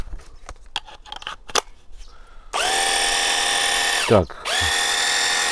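A Wosai MX-001 cordless battery high-pressure washer starts with a few clicks and handling knocks, then runs as a loud steady whine that winds down, briefly restarts with a sweep, and settles again.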